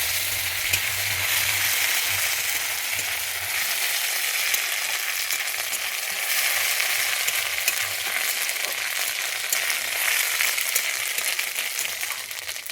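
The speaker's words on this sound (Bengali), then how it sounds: "আদা বাটা দিয়ে আমি ভালোভাবে কষিয়ে নেব" Ground ginger paste sautéed in oil in a pan for a Bengali vegetarian taro curry, producing a dense, unbroken crackling sizzle close by with faint stirring throughout.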